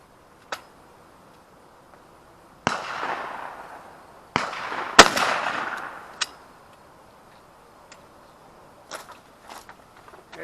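A 20-gauge shotgun firing steel shot during outdoor pattern testing with Carlson Cremator choke tubes: a few sharp, loud blasts spaced seconds apart, each with a short rolling tail, plus fainter clicks and handling sounds in between.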